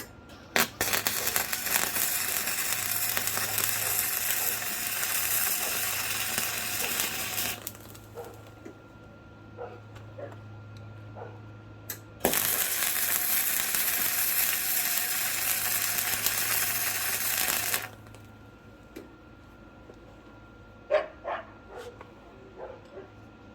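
Arc welding with slag, two long bursts of loud crackling sizzle separated by a quieter gap with a low hum, followed by scattered clicks and light mechanical knocks.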